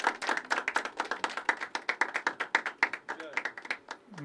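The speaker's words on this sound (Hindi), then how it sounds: "जोरदार तालियां से स्वागत करें" Audience clapping at a poetry open mic, a loose, rhythmic run of distinct hand claps from a small crowd, fairly close and steady before fading at the end.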